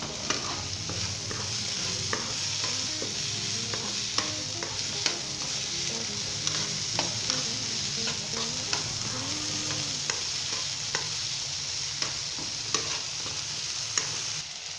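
Potatoes frying and being stirred in a pan for a cabbage and potato sabzi, a steady close sizzle with repeated scraping stir strokes throughout, no talking.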